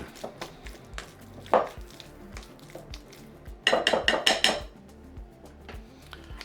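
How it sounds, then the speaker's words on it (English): Bananas mashed in a bowl for banana bread: a run of sharp utensil taps and clinks against the bowl, with a louder burst of rapid scraping clatter partway through. "You want it to be quite well mashed up, because it's going to be like a bread or cake after all"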